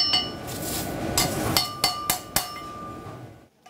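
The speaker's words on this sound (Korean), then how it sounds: "쇠와 쇠가 부딪혀 맑은 소리를 만들어냅니다." In a traditional village forge in Yeongdeok, Korea, a blacksmith's hammer strikes metal on metal, a series of bright ringing clangs roughly every third of a second, close and loud over a low hiss.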